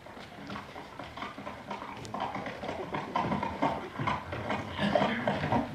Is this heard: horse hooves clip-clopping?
yes